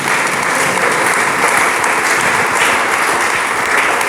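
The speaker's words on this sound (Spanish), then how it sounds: "Dele palmas al Señor Jesucristo." A church congregation claps continuously and loudly for the whole stretch, a dense even wash of many hands with no talking over it.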